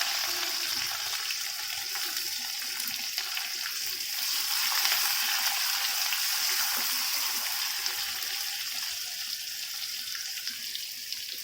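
Chopped onion and green chilli sizzle in a hot pan while making rava upma, a steady, dense hiss holding evenly throughout with no talking.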